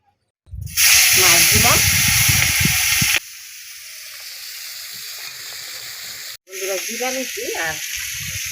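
Loud hissing sizzle of fish frying in hot oil, with voices over it; the sizzle drops quieter, cuts out briefly, then flares up again.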